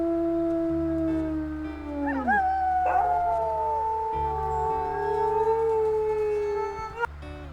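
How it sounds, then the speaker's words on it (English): A wolf in the WolfQuest: Aurora Pack video game howls, a loud drawn-out call that slides in pitch, with yips and layered howls joining in over a low steady hum. "I'll also do a little howl to boost."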